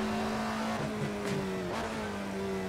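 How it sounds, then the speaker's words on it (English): Alfa Romeo 33 Stradale with its 2-litre engine in the Assetto Corsa racing game, revving as a steady high engine note that shifts pitch a couple of times, with brief bursts of extra noise between. "just listen to that 2-litre engine sing"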